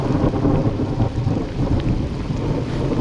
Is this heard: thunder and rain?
yes